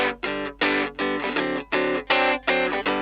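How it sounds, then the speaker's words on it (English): A dry electric guitar with no effects plays a run of about eight short, clipped chord stabs in a steady rhythm, each cut off cleanly with brief silences between. "Let's hear a guitar sample without any effects on it."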